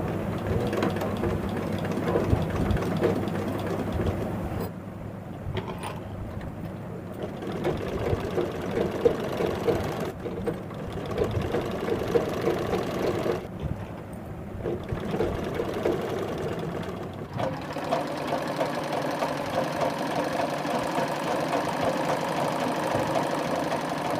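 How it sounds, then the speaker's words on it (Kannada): Sewing machine double-stitching piping onto a nightie made from an old sari, a steady, continuous mechanical rattle with short pauses between runs. "ನೋಡಿ ಇಲ್ಲಿಗೆ ಡಬಲ್ ಹೊಲಿಗೆ ಹಾಕ್ತಾ ಇದ್ದೀನಿ"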